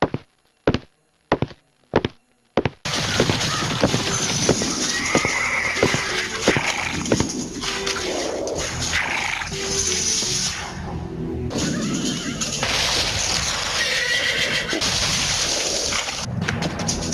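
Hooves thud in a few sharp beats, then horses neigh and whinny repeatedly over continuous loud galloping and clatter, close and busy, with a mix of other noises and no clear speech.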